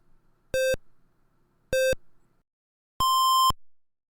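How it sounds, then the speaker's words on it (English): Traffic light countdown in a ZX Spectrum game: two short identical electronic beeps about a second apart, then a longer, higher final beep, clean square tones alone in silence. "I did change the traffic lights to add a beep when they count down."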